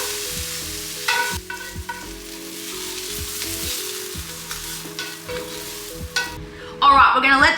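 Scotch fillet steaks fry in a pan for steak sandwiches, giving a steady sizzle over rhythmic background music, with a louder burst of spitting near the end.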